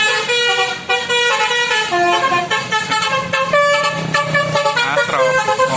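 Telolet horn on a Hino RM 280 Sinar Jaya Jetbus 3 bus, a loud, near, continuous run of bright melodic tooting with shifting notes and stacked harmonics, playing without pause over the low rumble of the bus and surrounding road traffic.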